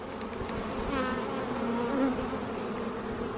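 Honeybees swarming around an open hive during an inspection create a dense, continuous buzz that swells slightly and stays close and steady throughout, with no talking.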